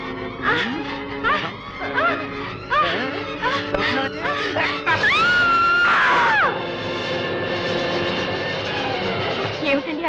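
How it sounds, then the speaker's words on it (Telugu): A loud, drawn-out scream rings out in an old Telugu comedy film, a sustained wailing cry over music and rumbling background sound. "ఏమిటండి ఆ కేక?"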